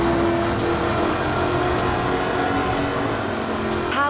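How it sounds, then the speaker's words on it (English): A supercharged 5-litre V8 British car with an aluminium body drones loudly and continuously in Forza Horizon 4, a steady engine tone holding at speed with a brief shift near the end. "Powered by a 5-litre V8 supercharged engine, with a fully aluminium body, it's blisteringly fast"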